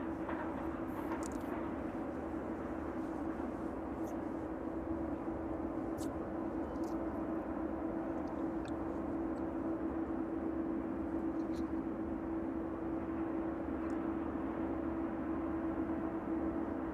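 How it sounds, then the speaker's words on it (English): An Aerologic Boeing 777 cargo plane on approach to runway 27 at East Midlands Airport makes a faint, distant, steady drone with a sustained hum on a chilly evening. "So the Aerologic 777 turning on to final lane for runway 27"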